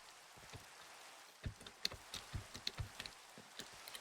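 Rain falling in the Minecraft video game, a faint, soft patter with scattered irregular droplet taps and thuds over a quiet hiss.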